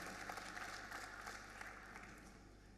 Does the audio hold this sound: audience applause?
yes